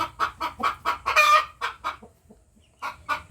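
Brahma breeder chickens from Pampanga cluck in quick, close bursts, with a brief louder squawk in the middle and a short pause before two final clucks.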